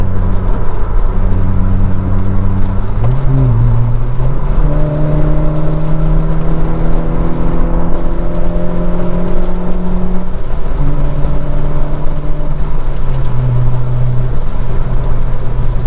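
Rain drumming on a Honda City driving along the NLEX highway, a loud steady wash of noise over the engine's tonal hum, which shifts pitch with gear changes.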